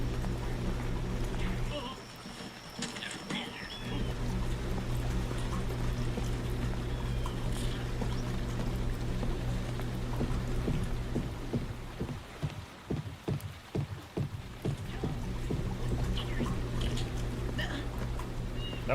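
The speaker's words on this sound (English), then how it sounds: "That water sounds weird. Is that the washer?" Water runs steadily in a washing machine inside a game world, a constant rushing, pouring wash with a low hum beneath it and brief crackling splashes, while a voice speaks faintly at times.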